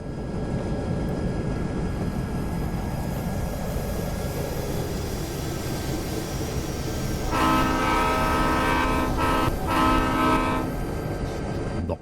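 A diesel locomotive horn in a train simulator game on a Feather River Canyon route sounds loudly for several seconds near the end, rising over a continuous rumbling engine and rail drone.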